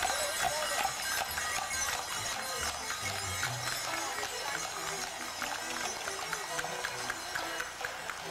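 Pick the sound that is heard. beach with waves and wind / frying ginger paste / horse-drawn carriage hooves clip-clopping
horse-drawn carriage hooves clip-clopping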